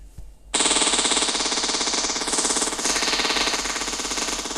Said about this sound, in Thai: หรือก็คือมันจะยิงอัตโนมัติให้เลย ไม่ต้องรอ